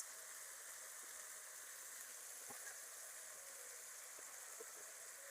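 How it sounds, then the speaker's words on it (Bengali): Turmeric, chili and salt fry in oil for a pabda fish and eggplant curry, giving a faint, steady sizzling hiss that runs evenly throughout with no voices. "মশলাটা একটু ভালোভাবে কষিয়ে নেব"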